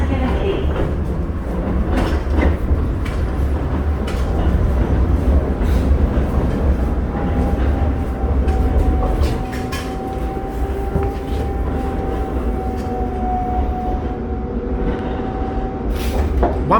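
Steady rumbling ride inside an Alstom Citadis 305 light rail tram in Sydney, with a continuous low drone, faint rattles and a thin whine rising in the middle.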